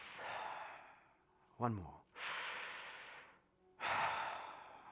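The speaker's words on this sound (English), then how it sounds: "Deep, simulated breath." Simulated deep breathing, with a long airy exhale, a brief spoken phrase, and then two more drawn-out breaths, all close and fairly quiet.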